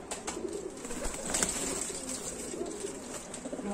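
Pigeons coo softly and repeatedly in a low, murmuring rhythm, with steady background noise throughout.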